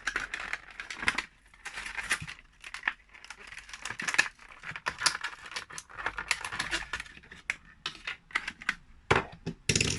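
A Johnny Lightning model car package is cut open with a utility knife: close, quiet crinkling plastic and cardboard, with irregular clicks, taps and tearing scrapes in short bursts.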